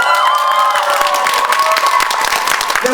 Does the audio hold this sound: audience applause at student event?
yes